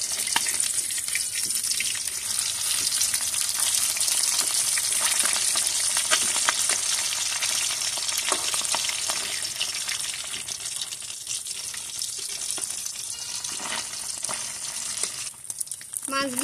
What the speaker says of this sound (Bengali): এখন ট্যাংরা মাছগুলো উল্টিয়ে দেব।